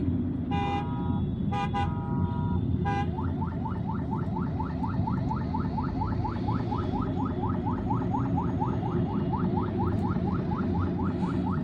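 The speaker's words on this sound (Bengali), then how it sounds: "অনেক গাড়ি চলতেছে" Busy evening traffic on Dhaka Airport Road, a constant low roar of passing cars with several short horn blasts early on, then a long run of rapid, evenly repeating chirps from a vehicle alarm or horn over the steady rumble.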